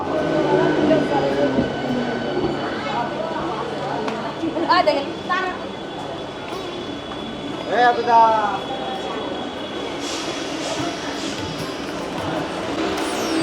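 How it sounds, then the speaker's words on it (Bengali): A local train pulls out of Mourigram station on the Howrah–Digha line, a loud close rumble of wheels and carriages with squealing metallic screeches and clatter, under people talking nearby. "ছেড়ে দিল আমাদের ট্রেন মৌরিগ্রাম স্টেশন থেকে, আর শুরু হলো আমাদের আজকের যাত্রা।"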